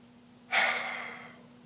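A single deep breath during a guided meditation, one long breathy exhale that swells suddenly and fades slowly over about a second, close and soft, with no talking.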